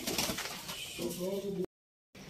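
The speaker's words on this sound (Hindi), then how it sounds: "अहमद फाइनली कबूतरों को बाहर लेके आ रहा है आहिस्ता आहिस्ता।" Soft pigeon coos up close, a short warbling call under light background noise, cut off by a brief silence.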